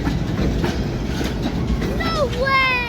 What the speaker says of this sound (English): I do not remember this train being this long.